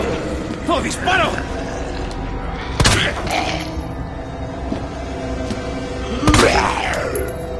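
Sharp gunshots and impacts in a Resident Evil 2 remake VR zombie game, three loud cracks spaced a few seconds apart amid clattering mechanical game sounds, with voices talking over them.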